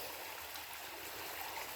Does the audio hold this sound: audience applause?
no